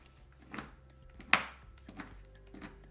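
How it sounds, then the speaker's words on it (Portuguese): A knife chops dark chocolate of at least 70% cocoa on a board, several sharp, separate knocks spaced about half a second apart, close and fairly quiet, with one louder strike. "Eu vou picar ligeiramente o chocolate com uma faca."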